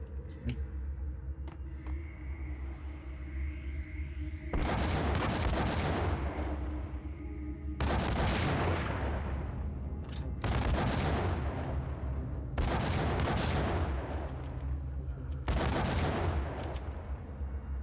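Repeated heavy gunfire from a sniper rifle in the video game Max Payne, several loud sustained bursts roughly every two to three seconds over a constant rumbling background.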